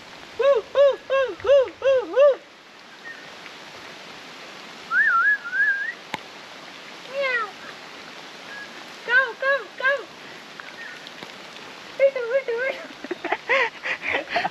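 A man on a trek up Mahuli Fort whistles bird-like calls, a voice imitating birds: bursts of rapid warbling trills and slurred chirps repeated in short phrases with pauses between, clear and close against quiet outdoor background.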